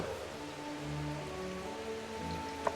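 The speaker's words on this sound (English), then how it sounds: "It is pouring down rain." Pouring rain during a storm drums steadily on a surface, a continuous dense patter heard from close by, with a low background hum and one sharp knock near the end.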